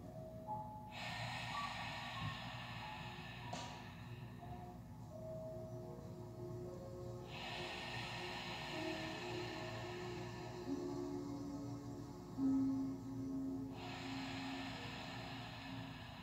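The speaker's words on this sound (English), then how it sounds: "Continue breathing on your own for the next few moments" Slow, deep breaths during a yoga exercise: three long, soft, airy exhales spaced several seconds apart, close and steady under a low background hum.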